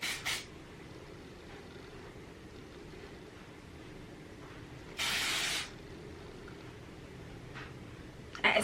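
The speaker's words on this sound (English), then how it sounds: "let me actually spray this because this is the body spray" A single burst of body spray aerosol hisses for about half a second, close and fairly loud against a quiet background, with a faint rustle before and after.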